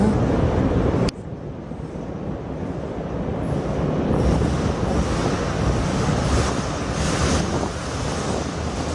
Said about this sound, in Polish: ten odgłos to tramwaj przejechał nad nami na moście